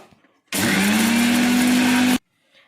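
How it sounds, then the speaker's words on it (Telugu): A small mixer grinder jar whirs loudly on roasted fenugreek seeds for under two seconds, its motor whine rising slightly in pitch before cutting off abruptly into near silence. "ఇప్పుడు ఒక చిన్న మిక్సీ గిన్నెలోకి అయితే ముందుగా వేయించి పెట్టుకున్న మెంతులను అయితే వేసేసుకున్నాను"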